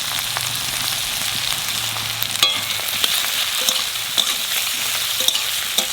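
Tomatoes and green chillies drop into onions frying in a pan for khichuri, giving a steady loud sizzle with scattered sharp utensil clicks from stirring, and no voices.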